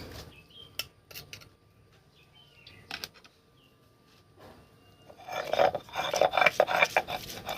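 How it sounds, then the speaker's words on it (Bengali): Boiled chana dal ground on a traditional stone slab (shil) with a grinding stone: a few scattered knocks and scrapes at first, then a dense, continuous gritty rasping that builds up close by, with no speech. "আমি ডালগুলো শিলে বেটে নিচ্ছি।"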